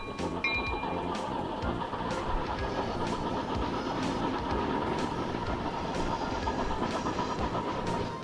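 A train runs steadily along the track in the railway simulation game Chris Sawyer's Locomotion, with continuous rolling rumble and clickety-clack from the wagons throughout.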